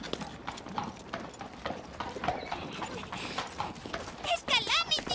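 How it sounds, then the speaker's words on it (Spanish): Hooves of a large show horse clip-clop in a Western film scene, a quick run of clear steps close by, mixed with people speaking and a brief high whinny near the end. "Es el mejor caballo del espectáculo."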